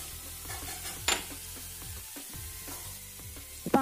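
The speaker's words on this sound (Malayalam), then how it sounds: "പാവയ്ക്ക എണ്ണയിലിട്ട് ഒരു 2 മിനിറ്റ് നേരം ഒന്ന് വഴറ്റിയെടുക്കുക." Bitter gourd sautéing in hot oil in a pan, a soft continuous sizzle broken by sharp clinks of a utensil against the pan near the start and end, with no voices.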